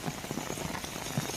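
Heavy monsoon rain pours onto the streets of Khambhaliya in Dwarka, a dense, steady hiss of falling water with scattered patters and no voices.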